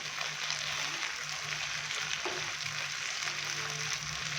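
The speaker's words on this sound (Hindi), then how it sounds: "ये डालेंगे। अच्छे से हम इसको मिक्स करेंगे" Finely chopped green chillies being stirred into butter garlic chicken in a hot pan, a soft continuous sizzle with a low steady hum beneath, fairly quiet, with no talk.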